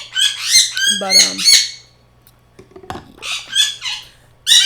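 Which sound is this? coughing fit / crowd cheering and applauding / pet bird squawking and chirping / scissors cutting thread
pet bird squawking and chirping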